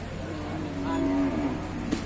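A single medium-sized cow at a Thai cattle market gives a drawn-out low moo at moderate distance over a steady background hum.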